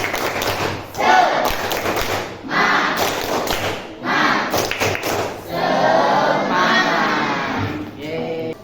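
A school class performs a rhythmic spirit clap chant, bursts of group clapping and thumping alternating with shouted chanting voices in short, repeating phrases.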